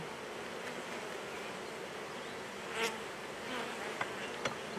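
Honeybees buzz in a steady, close drone around an opened hive during comb and foundation work, with a few faint clicks of frames being handled and no talking.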